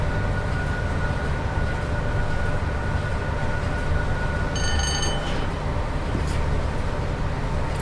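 Train Sim World 6 train braking on the West Coast Main Line near Warrington, a loud steady rolling rumble of wheels with a brief high squeal partway through, no talk.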